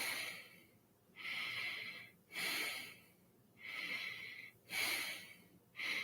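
Deep, slow breaths during a guided relaxation and hypnosis exercise, four airy inhales and exhales in a steady rhythm, close and fairly soft with quiet pauses between them.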